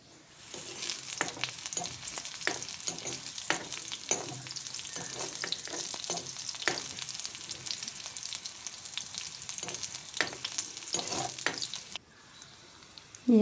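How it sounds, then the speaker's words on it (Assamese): Green chillies, ginger and garlic fry in a small amount of oil for an Assamese curry, a continuous close sizzle with stirring scrapes that fades near the end before a brief different sound. "অকণমান তেল দিম, জাষ্ট জলকীয়া আদা নহৰুখিনি ভাজি ল'বৰ কাৰণে।"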